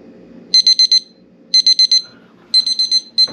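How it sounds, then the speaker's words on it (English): A timer alarm set for a 15-minute TNT reagent test sounds loud, sharp electronic beeps in quick bursts of four, repeating with short pauses between them. "set the timer for 15 minutes"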